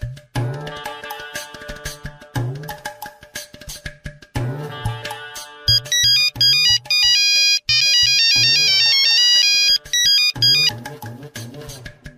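A mobile phone ringtone for an incoming call plays loudly and close, a bright repeating electronic melody that runs for several seconds with short pauses between phrases.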